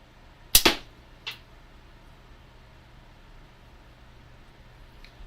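Slingshot shots at targets: a sharp snap of the bands and pouch followed moments later by a fainter distant impact, with a lighter click near the end, outdoors and otherwise quiet.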